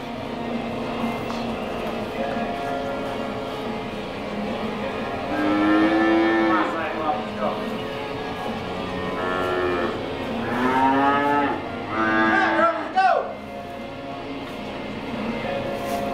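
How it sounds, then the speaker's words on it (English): Dairy cows on an organic farm moo as they walk into the barn to their stalls, several drawn-out calls near and far over steady barn background noise, the loudest bunched in the middle and near the end. "And here comes the cows."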